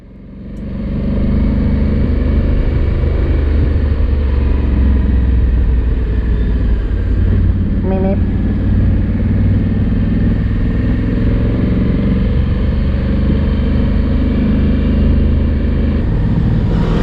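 Honda Africa Twin DCT motorcycle accelerating steadily, a loud continuous engine rumble from on board that holds level throughout, with wind noise and no talking.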